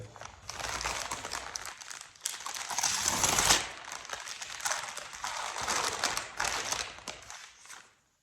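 A newly bought 50-piece oil pastel set being unwrapped, with close crinkling and crackling of packaging in bursts that swell and fade, ending with a quieter pause.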